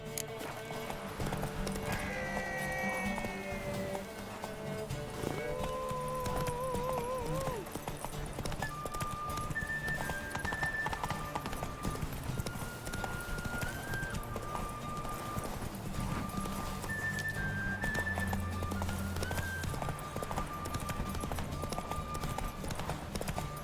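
Roach, the horse in The Witcher 3, galloping with steady rhythmic hoofbeats for a long stretch, with occasional snorts and game music playing alongside, and someone talking at times.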